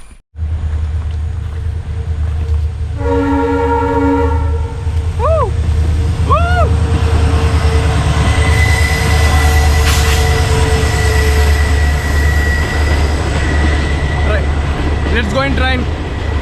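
Loud rumbling of a moving train heard from on board, steady low roar with occasional horn-like tones and squealing wheels, with some voices talking over it.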